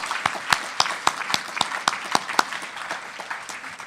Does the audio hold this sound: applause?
yes